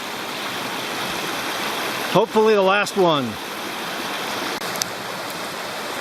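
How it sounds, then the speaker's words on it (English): Clear creek water rushing steadily over rocks at the fourth trail crossing of Cantrell Creek, a broad continuous wash heard throughout, with a brief spoken remark near the middle. "Here is our 4th crossing of Cantrell Creek."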